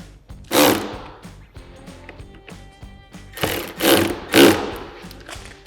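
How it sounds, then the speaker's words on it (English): Nuts on a SuperATV rear flip windshield for a Polaris Xpedition tightened with a 5mm Allen key and 10mm wrench: close ratcheting clicks and a few louder rustling scrapes of the tools, no talk. "we can go ahead and fully tighten them. It'll be a 5mm Allen and a 10mm wrench"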